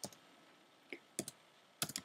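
A command is typed on a computer keyboard in a quiet room: a few sparse, close key clicks, then a quick burst of several keystrokes at the end.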